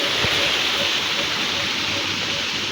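Water rushing steadily along an irrigation channel beside a farm garden, a dense, continuous splashing flow that stays loud and near from start to finish with no voices over it.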